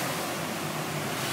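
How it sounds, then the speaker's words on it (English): Floodwater surging in waves across a flooded road in Bestwood, a steady broad wash of water with some wind buffeting, continuous and fairly close, with no voices. "There's the waves there."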